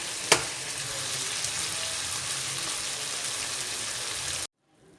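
Green masala frying in a pan with mutton cooked in yogurt, a loud steady sizzle close by with one sharp hit near the start, then the sound cuts off abruptly.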